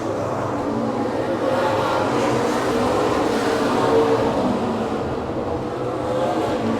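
Race cars lapping at Madera Speedway during a 100-lap race, a continuous engine roar that rises and falls slightly as cars pass, steady and fairly loud throughout.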